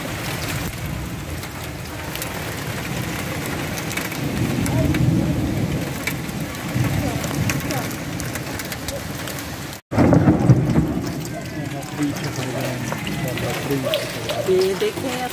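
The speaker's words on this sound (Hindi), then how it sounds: "अचानक से बारिश शुरू हो गई है, गड़े पड़ रहे हैं" Sudden heavy rain with hail pounds tin roofs in Badalona, Spain, a dense continuous roar that swells midway, with people talking beneath it.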